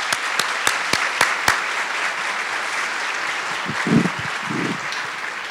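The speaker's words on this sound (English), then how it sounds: "our staff to just give a moment of applause, please." A crowd applauds steadily, dense clapping that carries on for several seconds with a few sharp, louder claps near the start.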